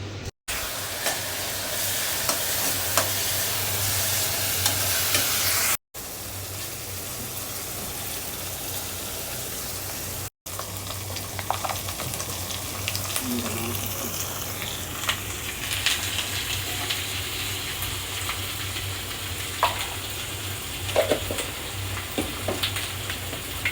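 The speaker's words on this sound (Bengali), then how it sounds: "এই যে ভেজে নিলাম এখন রান্না করব" Beef sizzles and fries in a pan while it is stirred, a steady loud hiss running throughout with scattered scraping and clinking of the spoon, briefly cut by a few short gaps, no voices.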